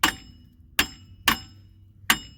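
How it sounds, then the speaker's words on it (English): Hammer blows on the rear wheel bearing of a 2014 Jeep Patriot, four sharp metallic clanks with short ringing tails, spaced unevenly and close. "we're going to take a hammer, just beat down"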